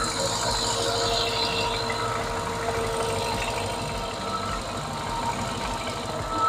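A running Mercedes engine with a Weistec supercharger kit rattles and ticks from an exhaust leak, a dense, steady mechanical clatter, close and continuous, with no talking.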